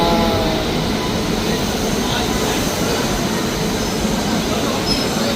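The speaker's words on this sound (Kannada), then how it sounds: "ಟ್ರೈನ್ ಬಂತಾ?" A double-decker passenger train rolls into a station with a loud, continuous rumble and wheel noise, while people talk nearby.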